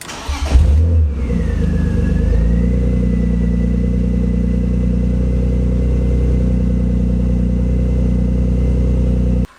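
BMW M3 E36 engine cranks and catches at once, then settles into a steady, loud, close idle with a strong low drone and a faint whine, running alone until it cuts off at the end.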